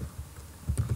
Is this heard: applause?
no